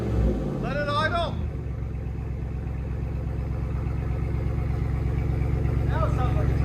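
A 2022 Ram Power Wagon's 6.4-litre Hemi V8 with a Flowmaster Outlaw exhaust idles with a steady, low, throbbing rumble close by, while someone speaks briefly at the start and again near the end.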